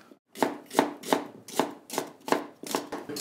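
Rhubarb chopped on a board with a knife, about eight crisp evenly spaced chops, close and clear with no talking.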